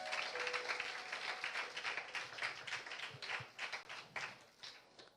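A church congregation applauds together, a dense, steady patter of many hands clapping close by that carries on for several seconds with slight swells, with faint voices underneath.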